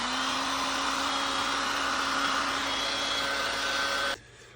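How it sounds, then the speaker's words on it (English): A heat blower runs at a steady, loud whir while drying SRAM DUB bottom bracket bearings, holding an even tone before cutting off abruptly near the end. "I'm gonna hit these bearings with some heat just to dry them out."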